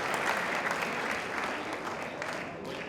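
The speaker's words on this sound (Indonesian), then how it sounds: "Berikan tepuk tangan buat istri saya." Sustained audience applause fills a church music workshop, steady and fairly loud throughout, with no voices standing out above the clapping.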